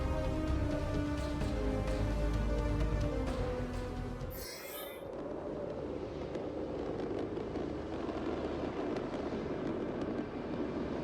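Aircraft engines roar in as air support arrives in the MechWarrior 5 Clans video game, a loud sustained drone that shifts abruptly midway into a broad rushing wash, with no speech.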